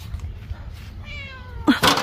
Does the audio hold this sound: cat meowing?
yes